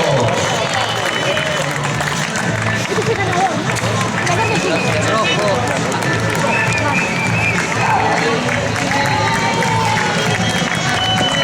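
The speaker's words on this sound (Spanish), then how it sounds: "Ese fortísimo aplauso para Adrián Lago" Loud, continuous crowd noise lining the 5 km course of a popular carnival road race in Vigo, Galicia, with cheering and clapping blended into a dense hubbub that holds steady throughout, a commentator speaking over it.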